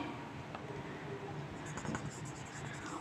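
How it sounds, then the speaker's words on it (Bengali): A pen scratching across paper in a quiet room, soft continuous writing strokes with a brief quicker burst of scribbling midway, faint and close. "আমি এখানে লিখলাম"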